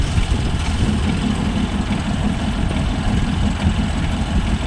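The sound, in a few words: John Deere 5405 CRDI 4wd tractor engine running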